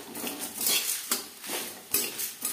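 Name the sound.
stirring black pepper and spices in a pan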